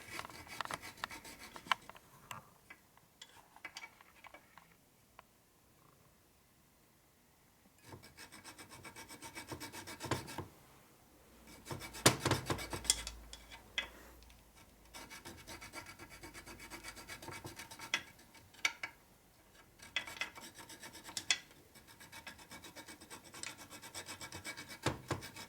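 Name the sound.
filing a dowel pin with a hand file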